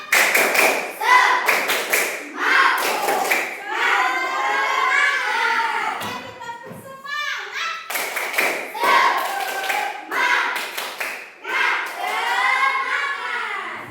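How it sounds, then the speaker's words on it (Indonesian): A classroom of children doing a rhythmic spirit clap in unison, sharp clap bursts in a repeating pattern, mixed with the kids chanting along and a teacher speaking between the sets. "1, 2, 3, tepuk semangat."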